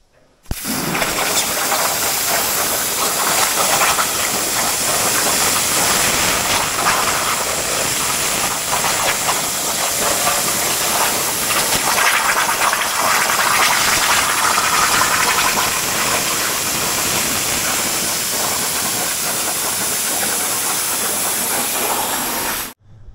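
A loud, steady hissing roar from a cutting machine cutting holes in steel plate for track loader rock guards runs for about twenty seconds without pause, then stops.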